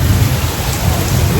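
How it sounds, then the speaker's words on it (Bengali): Heavy rain with thunder during a motorcycle trip, a dense, loud, continuous roar with deep low rumbling throughout, no clear separate claps. "আর পেছন দিকে হচ্ছে তুমুল বৃষ্টি হচ্ছে, দেখতে পাচ্ছি বাজ পড়ছে"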